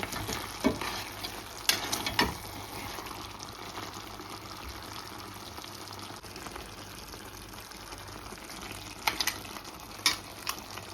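Mutton curry with potatoes frying in a pot as it gets stirred, a steady close sizzle with occasional scraping knocks of the spoon against the pan.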